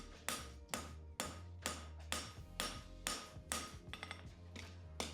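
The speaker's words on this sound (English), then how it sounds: "I'll now drop the round side of my hammer into the back of that arrowhead just behind that first dot there" A hammer working an aluminium bar into shape, about nine sharp ringing metallic strikes at a steady rhythm, each with a short bright decay, close up and loud, with no voices.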